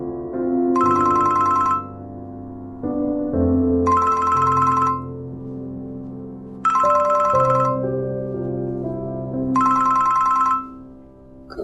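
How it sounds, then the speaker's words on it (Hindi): A mobile phone rings with an incoming call in a Pakistani drama scene, a repeating melodic ringtone in four clear bursts with short pauses between, loud and close with no talk over it. "अम्मी का फोन है"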